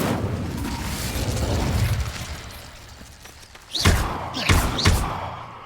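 Incendio fire spell cast in Hogwarts Legacy: after rumbling game ambience, a few sharp whooshing bursts land as loud, close thuds, spaced about half a second apart.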